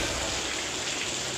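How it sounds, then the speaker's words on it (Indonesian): Heavy rain mixed with volcanic ash pours down near Semeru volcano, a dense, steady hiss that fills the whole short stretch with no pauses. "Ini kondisi hujannya, seperti hujan lumpur."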